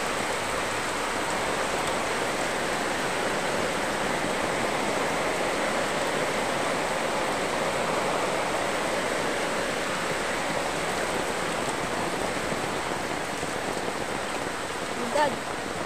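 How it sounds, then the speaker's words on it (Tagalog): Heavy rain pours down steadily during a flood, a dense, even roar of water that fills the whole clip, loud and close with no break. "lakas ng ulan. Baha na guys."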